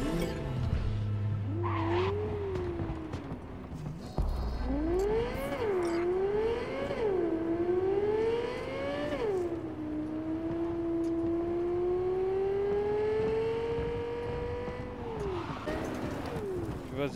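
A car in the Cyberpunk 2077 video game drives and skids, its engine tone rising and falling in long sweeping pitch bends with squealing tires, loud and continuous under a steady bed of game noise.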